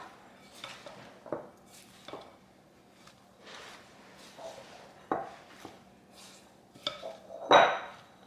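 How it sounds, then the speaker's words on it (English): A utensil stirs tikka masala mixture in a bowl, making sparse clinks and taps against the bowl at uneven intervals, quiet and close, with one louder knock near the end. "I'm just going to go in here, stir this all up."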